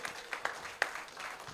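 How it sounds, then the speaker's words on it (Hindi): An audience at a Mumbai mushaira gives a short burst of scattered applause, a few sharp claps standing out over a thin spread of clapping, quick and moderately loud. "एक बार दोनों हाथ खड़कर जोरदार तालियां बजाएं"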